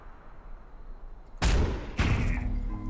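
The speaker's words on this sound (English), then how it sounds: "I think we want to shoot down here." In the turn-based strategy game Into The Breach, a loud shot strikes at about the midpoint, then a second heavy blast follows with rumbling impact and a rising tone trailing off.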